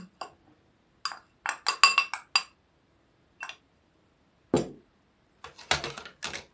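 A spoon clinks and scrapes against a glass bowl while mixing cocoa cake batter, in irregular bursts, with brief quiet pauses between the stirring strokes.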